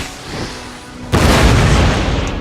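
A cannon in a Napoleonic-era battle booms once midway, a sudden loud blast with a rumbling tail that fades slowly, following a stretch of quieter battlefield background.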